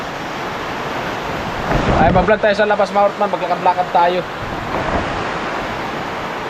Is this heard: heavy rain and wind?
yes